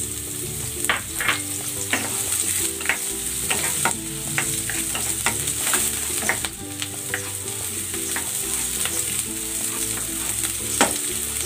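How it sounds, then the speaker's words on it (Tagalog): Ginger and onion sautéing in a pan, with a loud continuous sizzle and frequent rhythmic scrapes and taps of the stirring utensil, close and alone without talk. "Igigisa ko na tong luya."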